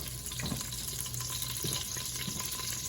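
Cooked moghrabieh, a Lebanese couscous, is strained in its pot, with a steady hiss of draining water and a few soft knocks, fairly quiet and close.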